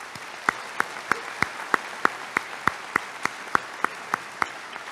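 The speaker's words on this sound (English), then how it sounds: "give a round of applause to the many staff members that are here today" Steady, evenly spaced claps ring out at an even slow rhythm, about three per second, with no talking, as an audience at a high school class of 2023 commencement ceremony honours the school staff.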